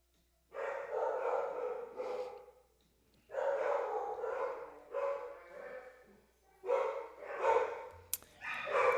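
Dogs bark in several loud bursts of repeated yaps, separated by short pauses, close by and with no talking over them.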